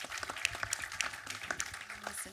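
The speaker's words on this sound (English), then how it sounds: "This round of applause for him." Soft, fairly distant audience clapping at a film screening Q&A, a light patter of scattered claps with voices talking over it.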